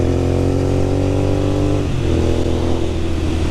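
A Royal Enfield Continental GT 650 twin engine revs loud and close, holding a steady high roar before dipping briefly and climbing again.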